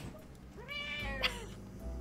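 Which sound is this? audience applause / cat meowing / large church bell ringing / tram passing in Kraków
cat meowing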